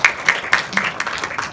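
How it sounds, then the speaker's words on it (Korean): Audience applause at a science and culture convergence forum in Korea, heard as a short burst of scattered hand claps with several distinct sharp claps over a softer spread of clapping, close and fairly loud. "좋은 발제해 주신 두 분께 다시 한번 박수 부탁드립니다."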